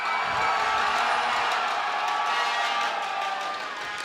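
A large esports tournament crowd at a live arena event cheers loudly and continuously, with whoops and clapping blended into a sustained roar that fades slightly at the end.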